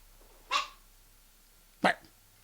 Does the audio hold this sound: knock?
no